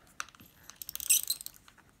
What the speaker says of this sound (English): I'm just going to take my adhesive tape runner.